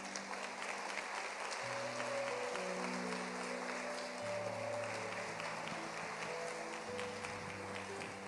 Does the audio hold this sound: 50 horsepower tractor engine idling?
no